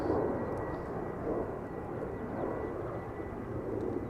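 Boeing 737-800 airliner moving at Amsterdam Schiphol, a steady, fairly faint broadband jet rumble that holds evenly throughout without voices.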